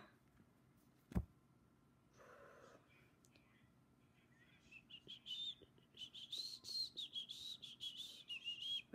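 Someone whistles a wavering, high tune that gets louder toward the end, after a quiet stretch with a sharp knock and faint whispering.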